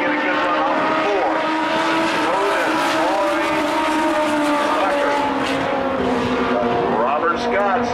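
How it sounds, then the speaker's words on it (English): Legends race cars racing at Tucson Speedway, a loud, steady engine drone with rising and falling pitch as cars pass, under continuous announcer commentary. "now Robert Scott is looking on the outside, trying to get a good run off the four"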